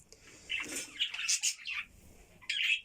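Pet budgerigars in a cage give a few short, bright chirps and twittering bursts in a quiet room, with brief pauses between calls.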